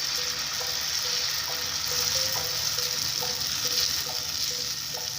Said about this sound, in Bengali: এবার এর মধ্যে ব্যাটারটা অল্প অল্প করে দেব আর পরোটাগুলো সব এক এক করে ভেজে নেব।